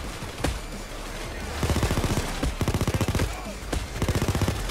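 Rapid bursts of automatic gunfire from a SWAT turret in the heist game PAYDAY 2, several loud rattling volleys in quick succession with short pauses between them, layered over busy game noise.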